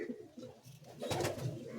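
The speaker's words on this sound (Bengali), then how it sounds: "সব রেজাল্টেড চ্যাম্পিয়ন পায়রা।" Champion racing pigeons coo in a breeder's loft, soft low murmuring calls repeating close by and swelling louder toward the end, with no talk over them.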